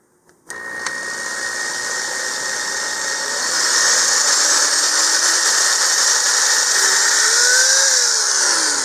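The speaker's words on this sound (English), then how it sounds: "with a 3/16 inch bit here and drill the holes" A small power drill with a 3/16 inch bit bores holes in a 2-inch model rocket part over a cutting mat, its steady high whine running for several seconds with the motor pitch rising and wavering as it cuts.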